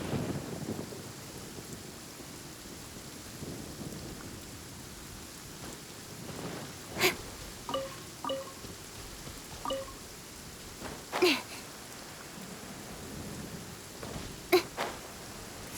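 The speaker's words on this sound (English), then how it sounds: "Thunder and lightning can be quite frightening" Steady rain falls in a game setting in Liyue, with several sharp thunder cracks and rumbles breaking through at intervals over a soft, constant hiss.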